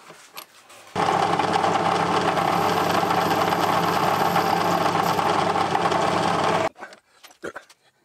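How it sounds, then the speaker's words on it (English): A lathe cutting a thread on a small part for a Stuart 10V steam engine model runs as a steady, loud mechanical whir with a constant hum for several seconds, then stops abruptly, leaving faint workshop clicks and handling noises. "I'll bring the tool in and cut the thread."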